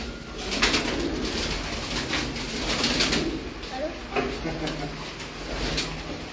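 Pigeons coo in a loft setting, soft repeated calls layered over a busy background with faint voices and occasional clatter.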